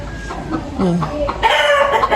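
Native farm chickens clucking close by in a nesting area, a series of throaty clucks building into a louder squawking call near the end, with a person's voice faintly in the background.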